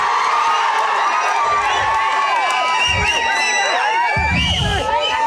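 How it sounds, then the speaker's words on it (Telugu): Large crowd at a political rally cheering and whooping in loud overlapping waves, with shouts rising and falling across the scene. "నేని గారికి మాత్రం ఎవరు కూడా చెడ్డ మాట లేదే, జేజేలు కొడుతున్నారే."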